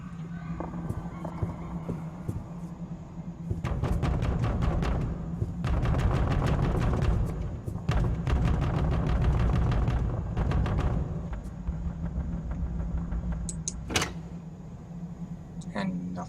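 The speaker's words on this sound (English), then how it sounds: "You heard a strange knocking sound coming from the attic." Strange knocking and banging from an attic in a stealth video game, rapid clustered thumps and raps in bursts over a low steady hum, with a voice talking at times.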